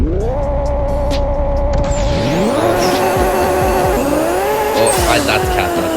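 Car tires squeal loudly and continuously in the Pixel Car Racer video game as they heat up before a drag launch, with a revving engine rising and falling in pitch and someone talking over it.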